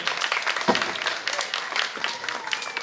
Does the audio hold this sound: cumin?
no